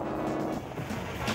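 A small motor on a flysurf board runs steadily, a loud continuous drone with no breaks that fills the whole moment, with no voices over it.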